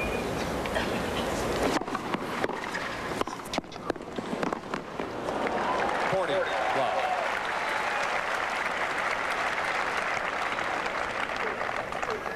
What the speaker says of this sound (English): They're applauding from home.